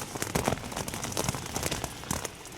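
Steady rain patters on a tent nearby during cold, windy winter camping at Great Mis Tor, with irregular louder drops and crackles over a continuous hiss.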